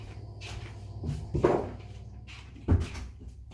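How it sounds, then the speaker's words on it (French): A door is shut indoors with a soft thump and latch click, followed by a second firmer knock a moment later, both fairly quiet against a low room hum. "Enfin, fermer la porte"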